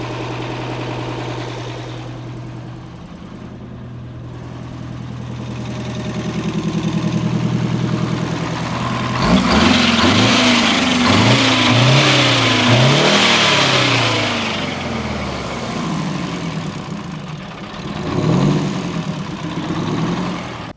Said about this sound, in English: Let me go rev it up and tell me if it leaks out any.